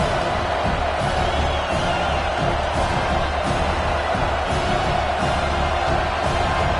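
A football stadium crowd roars loudly and continuously during a third-and-goal play, a dense wall of cheering that rocks the venue and forces a false start, steady with no pauses.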